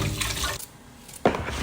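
Water runs from a tap into a sink where cabbage, carrots, beans and onion leaves are set to soak for pancit, a splashing stream that pauses briefly then gushes again, close by.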